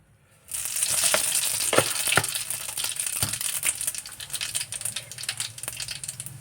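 Radhuni seeds hit hot oil and burst into a loud, crackling sizzle that starts abruptly, with sharp pops and spits scattered over a dense hiss that slowly eases.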